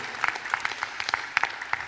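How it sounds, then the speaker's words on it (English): An audience at a world IT conference claps after a startup pitch, a short burst of scattered, fairly quick hand claps at moderate distance, no voices over it. "Big round of applause."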